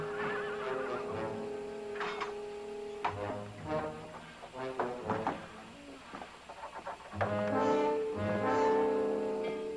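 Horses neigh and whinny loudly in several long, wavering calls, with scattered clip-clop and shuffling in between. Everything sounds close by, and no one speaks.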